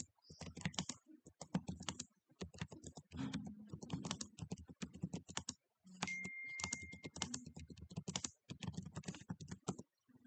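Quick bursts of clicking keystrokes on a computer keyboard as a question is typed into a chatbot, irregular runs of taps with brief pauses between words, close and clear with no speech.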